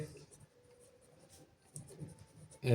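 A pen scratches across paper in short close strokes while a voice talks softly at the same time.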